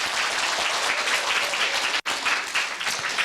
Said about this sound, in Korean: 자축의 박수 한번 부탁드립니다.